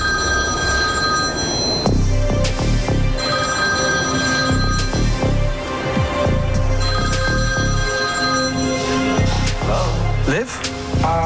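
A mobile phone rings repeatedly in a steady electronic pattern throughout, fairly loud and close, while people talk over it.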